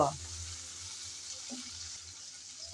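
Ginger garlic paste frying in a pan while being stirred, a steady soft sizzle running throughout with a couple of faint scraping touches, close and even in level.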